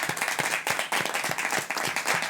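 A studio audience applauds a young male contestant on a French television game show, brisk, fairly close clapping with an uneven, pulsing rhythm that lasts a couple of seconds.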